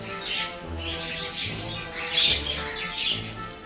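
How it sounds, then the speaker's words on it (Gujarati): Mynas call near a home, with several harsh squawks and chattering notes repeating in uneven bursts. They sound moderately close and carry on with no voices. "કાબરો આવી ગઈ છે"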